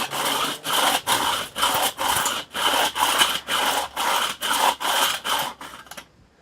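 Ashes are scraped and swept out of the bottom of a Weber kettle charcoal grill in about a dozen steady, rhythmic rasping strokes, close and scratchy, ending abruptly.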